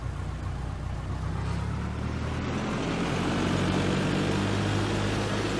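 A Cessna 172 engine in Flight Simulator X throttles up, giving a steady propeller drone that rises slightly in loudness and holds without a break.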